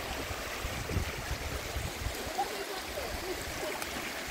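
A stream spills down by the Jumbo Grade Falls waterfalls on a trail in Washoe Valley, Nevada, a faint, steady rushing of flowing water with no voices.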